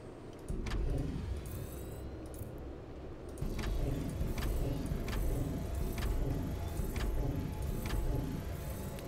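Road traffic in the city-building game Anno 2205: a steady hum of passing cars under faint ticking and clicking interface sounds, with one brief louder swell partway through.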